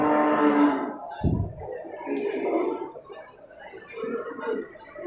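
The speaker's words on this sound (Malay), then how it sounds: "Ya, banyak sapi-sapi jumbo." A loud, drawn-out moo from a jumbo Simmental or Limousin bull close by at a cattle exhibition, followed by a thud and farmyard voices chattering in the background.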